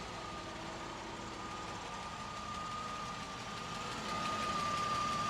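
A 1987 Mercedes-Benz 560SL V8 idles smoothly and steadily, a close, continuous low rumble with a faint whine and no clacking, unchanged throughout.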